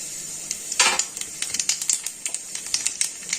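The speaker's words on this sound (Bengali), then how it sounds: "তেল গরম হয়ে গেছে, আমি এবার এর মধ্যে দেবো কালো জিরে" Nigella seeds dropped into a little hot mustard oil crackle and spit, a sharp burst followed by a quick run of bright, close popping ticks with no voices.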